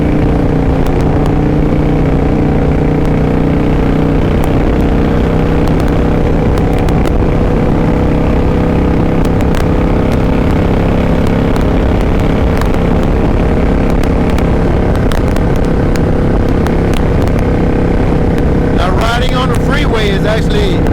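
Motorcycle on a freeway, the engine droning loud and steady with heavy wind rush throughout, and a rider's voice talking over it.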